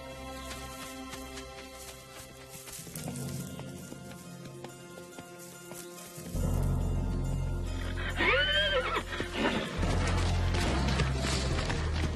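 Newborn foal and horses at a circus stable: loud neighing and whinnying rings out alone in the second half, over a steady low rumble, with soft hoof movement earlier.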